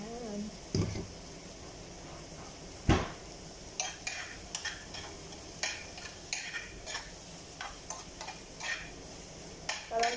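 An egg cooks in a pan with a low steady sizzle, while a utensil clinks and scrapes in frequent light taps and a couple of sharper knocks, close by and fairly quiet.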